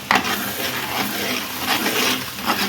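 Spice paste of coriander seed, cumin, garlic and coconut frying hard in a pan for Andhra fish curry, a loud, steady close sizzle with stirring scrapes throughout.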